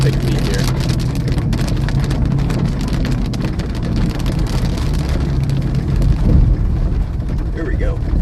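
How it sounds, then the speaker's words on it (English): Rain pours onto a car during a thunderstorm while storm chasing in Iowa, a loud, continuous, dense patter drumming on the vehicle throughout without a break. "It's raining again, dang it."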